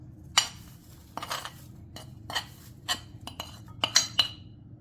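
Ingredients for a date pan masala mixture are stirred in a bowl, a spoon clinking against the sides in quick, bright taps and short bursts, irregular and close, with quiet pauses between.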